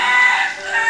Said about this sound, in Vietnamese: Thôi gà gáy.